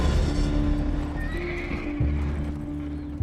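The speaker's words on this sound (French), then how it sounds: "Au début, on a un cheval." A horse whinnies and neighs loudly close by while its hooves clop, with no talk, set in a dark night scene from a French film excerpt.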